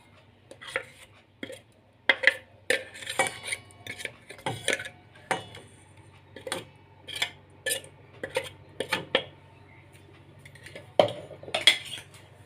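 A mixer-grinder pot is rinsed and water is added to garlic-leaf batter in a kitchen, giving scattered close metallic clinks and knocks of utensils between quiet pauses, with no talking.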